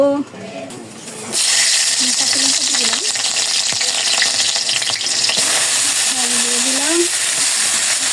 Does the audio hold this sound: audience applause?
no